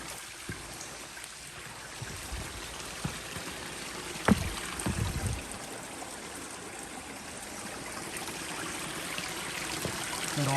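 A small farm stream runs under a bridge after flooding, a soft continuous trickle and gurgle of water with a couple of brief knocks partway through.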